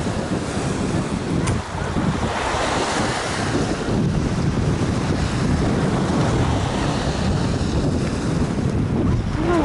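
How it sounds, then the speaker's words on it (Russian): Surf breaking steadily on a beach in Ulcinj, Montenegro, with strong wind buffeting the microphone throughout, a loud continuous wash of waves and gusts and no voices. "Ну вот он, такой пляж"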